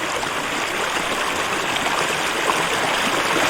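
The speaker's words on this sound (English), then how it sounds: "A little further on from here is a creek." Water flows along Traralgon Creek as a steady, loud, broadband rush that stays even throughout, with no voices.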